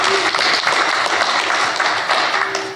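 An audience at a conference session gives sustained, dense applause, loud and continuous throughout with no speech over it.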